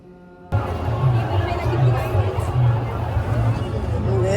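A dense crowd murmuring at a large December 6 commemorative gathering, a steady babble of many voices that starts suddenly after a short quiet moment and continues at a fairly loud level.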